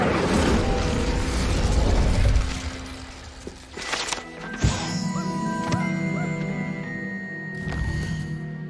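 Incendio fire spell cast in the Hogwarts Legacy video game: a burst of crackling, whooshing flame with sharp pops and a bright impact, set among tonal magical chimes and game effects over a busy, loud background.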